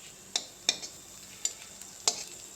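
Dried fish (shutki) fries in a little oil in a pan under a steady soft hiss, broken by four sharp metallic taps of a spatula against the pan as it is stirred.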